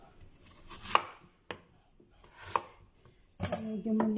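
A knife chopping small vegetables in half on a cutting board while cooking, several distinct sharp cuts spaced irregularly, close and clear with no talk.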